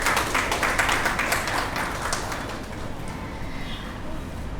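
Audience applause welcoming a poet to the stage at a Women's Day literary event, dense clapping that starts strong, then thins and fades to a lighter patter.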